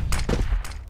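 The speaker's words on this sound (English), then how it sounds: "flashbang" A flashbang grenade goes off in a shooter video game, heard as a few sharp, close, bursting cracks packed into under a second.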